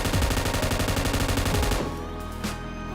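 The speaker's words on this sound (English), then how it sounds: "You can actually shoot from BRDM vehicle." Rapid automatic gunfire from a BRDM armored vehicle in PUBG Mobile, a dense sustained burst of shots that cuts off abruptly near the two-second mark, leaving fainter background noise.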